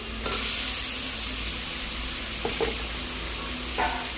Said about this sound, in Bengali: একটু জল দিয়ে দিচ্ছি মশলা সবজিগুলো দিয়ে দিচ্ছি